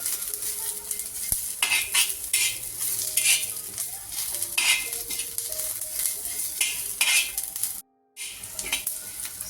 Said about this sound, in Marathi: सगळ्यात शेवटी सफेद तीळ घालते ते पटकन भाजले जातात